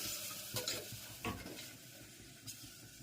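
Spices temper in hot oil for a whole pigeon pea curry, a soft steady sizzle broken by a few stirring scrapes of a spoon against the pan, with no talking.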